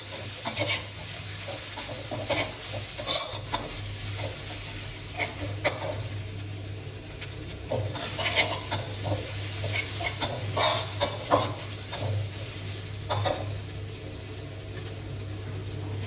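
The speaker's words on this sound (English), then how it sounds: "Keep the heat medium to low and add chopped chili, garlic, and shallot." Chopped chili, garlic and shallot fry gently in vegetable oil over medium-low heat for Thai pork belly with shrimp paste, a continuous close sizzle broken by frequent spatula scrapes and stirring clatter.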